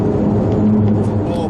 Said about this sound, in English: that sound you're hearing is they did some grooving the last 30, 40 miles, and it's really annoying